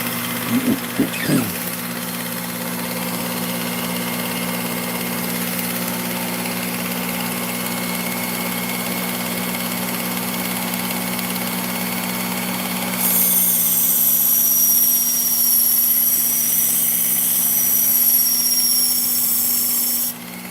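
A serrated knife ground against a powered sharpener, a steady motor hum running throughout, then a brighter, louder high-pitched grinding whine once the blade meets the wheel, continuing for several seconds up close.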